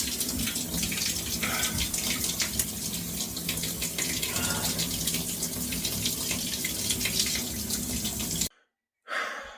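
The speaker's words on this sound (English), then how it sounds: "so I'm gonna finish the shower now" Steady broadband rush of shower water running continuously at close range, ending abruptly as the flow is shut off near the end.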